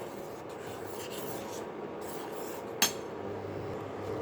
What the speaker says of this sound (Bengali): খুব ভালোভাবে আমি নাড়াচাড়া করে নেব এইভাবে মিশিয়ে নেব